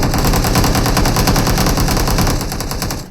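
Rapid sustained automatic gunfire in a battle royale video game, loud and dense with rhythmic bursts continuing for a few seconds before tapering off.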